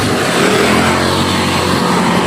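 A motorcycle engine runs steadily and close by in a street setting, a continuous low droning hum with no pauses and no voices.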